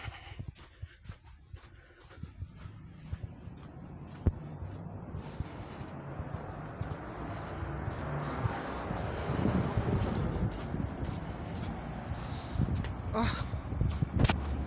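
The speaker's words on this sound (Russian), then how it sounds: "Очень холодный ветер." Gusty, cold night wind buffets the microphone, rising and swelling over time, with scattered crunching footsteps on slippery ground underneath.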